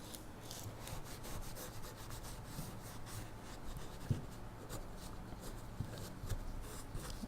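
Cloth rubbing excess zinc wax off a carved wooden elephant, a steady soft scrubbing and wiping with quick repeated strokes and a few light knocks, close and fairly quiet.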